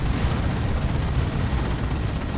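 Whirlwind artillery shells pound the battlefield in Dawn of War 2: Retribution, a continuous roar of overlapping explosions and rumbling blasts that stays loud throughout without a break.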